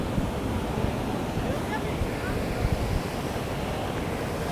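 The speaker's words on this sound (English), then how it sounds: "This is the amazing waterfall that we actually come here to see." A large waterfall heard up close, a dense, steady roar of falling water with rumbling low-end wind buffeting, loud and unbroken throughout.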